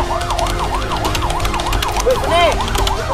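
An emergency vehicle siren wails in rapid repeating rising-and-falling sweeps during a police training ambush and checkpoint scenario, loud and close, with a second siren tone briefly overlapping near the end.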